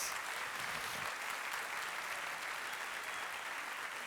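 A church congregation claps in sustained, even applause that fills the room from start to finish, with no voices rising above it.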